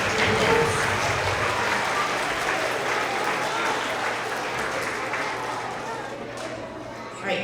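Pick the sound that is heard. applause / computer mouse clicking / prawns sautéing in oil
applause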